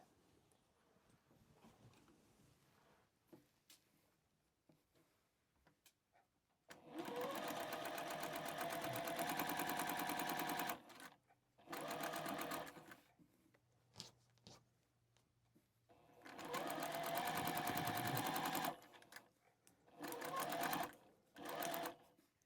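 A sewing machine stitches a quilt in two long, loud whirring runs of rapid needle chatter, separated by short bursts and pauses, with quiet handling in between.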